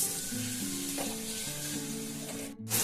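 White sesame and mustard seeds fry in hot oil with a dense, close sizzle and fine crackle, while faint tonal hums sit beneath it; a short dropout comes near the end, and no voices are heard.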